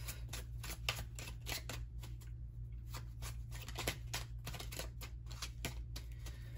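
Repeated riffling and flicking of tarot cards being shuffled, close and quiet, over a steady low hum.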